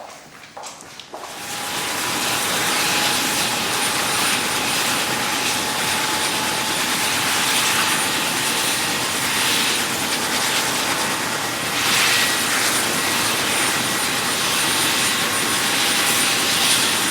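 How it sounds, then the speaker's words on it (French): A presidential helicopter roars in a loud, sustained whine and wash after a brief spool-up, droning steadily with a high turbine tone throughout. "l'hélico présidentiel va nous amener"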